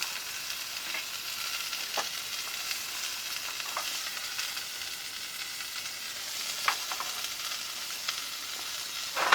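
Beans frying at a camp cook-out in the Australian outback, a steady soft sizzle and hiss running throughout with a few faint clicks and knocks of stirring in the pan, no talking.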